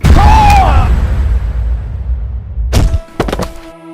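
A bomb bursting as a loud, deep boom with a long rumbling decay, followed by a few sharp thuds and cracks near the end.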